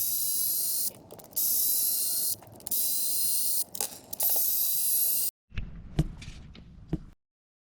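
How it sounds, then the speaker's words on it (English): A small electric power screwdriver whirs in several short bursts, stopping and starting as it backs screws out of a Traxxas Sledge RC truck, followed by a few faint clicks and taps of handling the parts. "We're going to use my handy dandy little power extra driver here because my hand's going to get tired."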